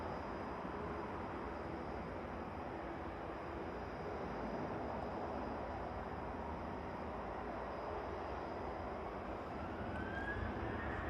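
A Ryanair airliner departs for Rome from Manchester Airport, its steady broadband jet roar filling the whole stretch at a moderate distance, with a faint rising whine near the end and wind noise on the microphone.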